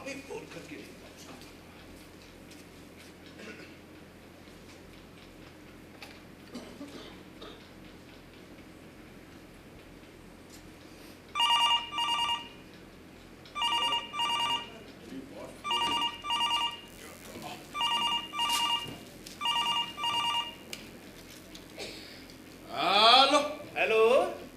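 A telephone rings on a stage, repeated ring bursts in a regular rhythm after a quieter stretch, with voices heard around it.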